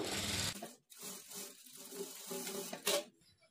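A sewing machine stitches the shoulder joint of a work blouse at a half-inch margin, in brief close bursts of running broken by short pauses.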